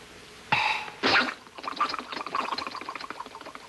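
A mouth imitates a ginger ale bottle popping open: two sharp bursts, then a fizzy, bubbling hiss trailing off.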